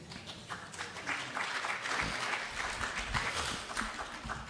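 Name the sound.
audience clapping after a talk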